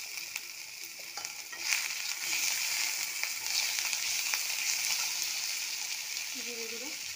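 Cumin seeds and bay leaf fry in oil while being stirred, giving a steady close hiss and sizzle with light scraping throughout and a brief voice near the end.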